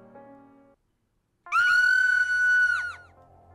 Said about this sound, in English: Sounded like a scream.